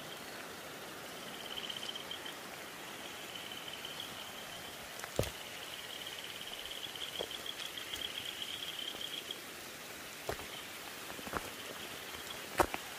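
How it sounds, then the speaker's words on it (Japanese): Rain falls outdoors at night, a quiet continuous patter with a few sharper drop hits landing close by, while a faint cricket-like trill runs underneath. "雨だ。"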